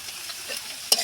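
Spices with salt, turmeric and chilli powder sizzle in a hot pan as they are stirred, a brief close, steady frying hiss with a louder scrape of stirring near the end.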